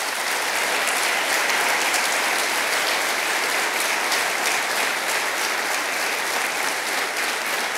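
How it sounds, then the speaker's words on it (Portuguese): An audience at a lecture event applauds the parents with steady, dense clapping that stays even and sustained throughout, with no talking over it. "Uma salva de palmas para esses pais."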